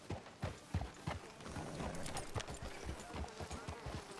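Horse hooves clip-clop on the ground in the video game Red Dead Redemption 2, a steady, close, moderately paced clatter of hoofbeats with faint ambient background and no talk.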